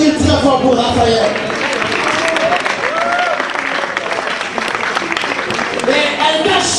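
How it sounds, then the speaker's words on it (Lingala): Wedding guests clap loudly in a sustained crowd applause at a religious wedding ceremony. Cheers and a voice rise over the clapping. "Est-ce que nous pouvons applaudir très fort pour Raphaël?"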